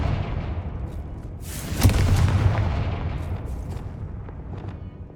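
A Confringo blasting spell explodes in Hogwarts Legacy, a sharp loud boom that rolls into a long rumbling decay over a low game background.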